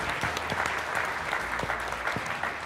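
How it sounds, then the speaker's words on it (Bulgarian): An audience at a QA conference opening applauds the hosts, with loud, dense clapping and a few sharper individual claps standing out throughout. "Един специални аплодисменти за тях."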